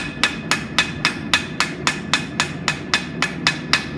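Hammer blows on a dagger blade against a worn-edged anvil, hand-forged without power tools, ring out in a steady, even rhythm of about four strikes per second, close and loud, with no talking.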